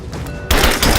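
Rise of the Tomb Raider gunfire, a muffled scene broken midway by a sudden loud burst of shots and impacts that stays dense until the end.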